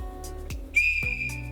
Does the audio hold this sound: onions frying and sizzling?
no